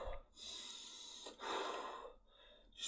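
A person hyperventilating through a panic attack, with sharp, rapid gasping breaths in two long bursts separated by brief pauses, close and fairly loud with no talking.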